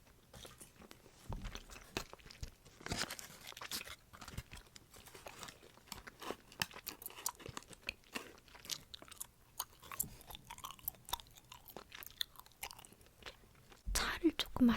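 Gum chewed close to the ear in a quiet ASMR setting, with moist clicks and smacks scattered irregularly throughout and soft background hiss between bites.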